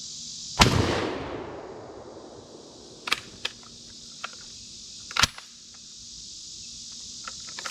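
A J C Higgins Model 583.16 shotgun, a vintage Sears and Roebuck gun, fires a single close blast at a can outdoors, with a long decaying echo followed by a few faint, sharp clicks and knocks.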